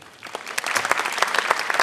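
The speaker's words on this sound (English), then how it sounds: "Big applause, please." Applause from an audience at a congress builds quickly from a few scattered claps into fuller clapping over about two seconds, with no talking.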